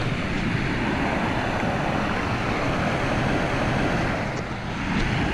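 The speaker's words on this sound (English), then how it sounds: "It didn't take long before I reached the first obstacle, a waterfall." Rushing river water at a waterfall, a loud continuous broadband roar with steady turbulence and some wind buffeting on the microphone, close and unbroken throughout.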